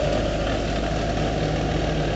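A tractor engine runs at a steady idle, a continuous low rumbling drone with an even mechanical chug throughout, fairly loud and close, with no voices.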